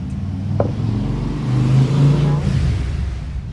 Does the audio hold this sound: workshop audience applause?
no